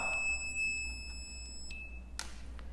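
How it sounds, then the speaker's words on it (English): A high, thin electric buzzer in a regulated DC power supply circuit whines steadily over a low hum, with a few faint clicks and a brief burst of noise near the end. "The buzzer only sound in black and brown cable."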